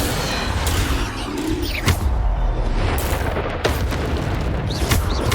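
Bombarda spells explode repeatedly in Hogwarts Legacy, a dense barrage of loud booms and blasts over continuous combat noise, with no talking.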